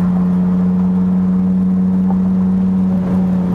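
Turbocharged Dodge Viper GTS V10 idling steadily up close, a loud constant low hum with a strong droning tone and a faint rise in revs near the end, no voices.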